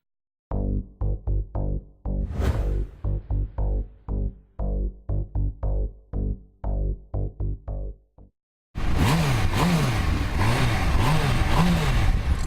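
A 2006 Suzuki Hayabusa with a 1,298cc liquid-cooled engine revs hard in a long series of sharp, rhythmic throttle blips. After a brief pause, a sustained rising and falling roar with strong harmonics follows, loud and close.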